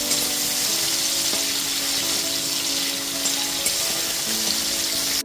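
Chopped tomato with salt frying in a pan for a rui fish curry, a steady close sizzle with soft bubbling and occasional stirring scrapes, no voices.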